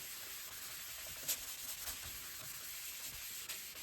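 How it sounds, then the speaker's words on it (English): A towel rubbed over hot, freshly ironed waxed paper produces a soft, steady brushing and rubbing hiss, close and quiet, with a faint thump partway through and no talking. "While it's hot, rub it with the towel."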